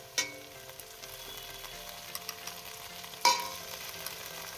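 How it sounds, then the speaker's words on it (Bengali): Ginger-cumin paste and spices frying in a pan, a soft, low sizzle broken by a couple of sharp utensil knocks and scattered stirring clicks. "এবার মশলাটাকে ভালো করে একটু কষিয়ে নেবো"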